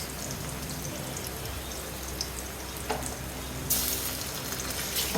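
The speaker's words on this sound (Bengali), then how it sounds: "একটা তেজপাতা দারচিনি এলাচি ভালো করে ভেজে নিব" Bay leaf, cinnamon and cardamom fry in hot oil in a pan, giving a steady soft sizzle throughout with a brighter crackling burst near the end.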